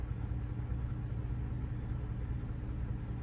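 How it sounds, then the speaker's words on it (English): Car engine idling steadily during a diagnostic session with an auto scan tool, a low continuous rumble with no talk. "Even though the engine is running,"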